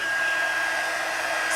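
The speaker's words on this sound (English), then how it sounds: "you want to aim that heat tool away from you" An embossing heat tool used for card making blows hot air in a steady, loud, even whoosh like a hair dryer. It runs unbroken and alone, with no voices.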